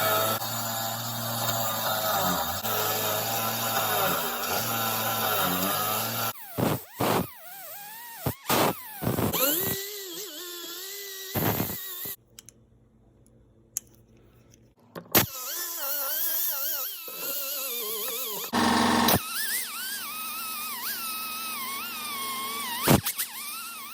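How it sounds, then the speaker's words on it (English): Bench grinder cleaning up Wilton bench vise parts, its steady motor whine running loud and continuous before breaking into short bursts and pauses as the pieces are pressed on and pulled away. "these are the things I clean up on my bench grinder"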